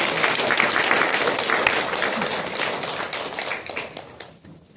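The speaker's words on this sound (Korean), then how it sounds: "잘 다녀올 수 있도록 우리 격려의 박수 부탁드리겠습니다." A church congregation claps in encouragement for a member, a dense steady round of applause that carries on for several seconds before tapering off near the end.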